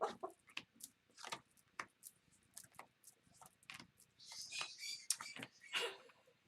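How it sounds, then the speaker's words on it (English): A pet bird calls indoors with sharp, shrill chirps and screeches in quick irregular bursts, fairly close but quiet, with a brief denser flurry of calls near the end. "Can you hear my bird?"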